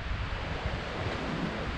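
Strong wind at a campsite in Iceland roars and buffets the microphone in a constant loud rush with no other sounds standing out.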